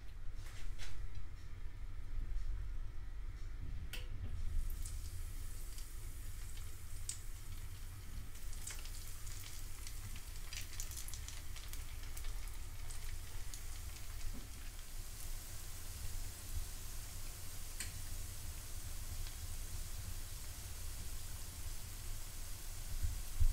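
Potato sticks deep-fry in oil preheated to 180 degrees, giving a quiet, continuous bubbling sizzle with scattered crackles and pops throughout.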